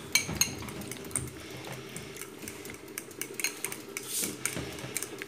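Flour, egg and chopped parsley being mixed in a bowl, with a utensil clinking and scraping against the dish in quick, irregular taps and stirs, close and fairly quiet, with no talk.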